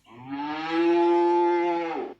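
A single long cow moo, loud and close, rising and holding steady before cutting off, heard alone within a farmyard story.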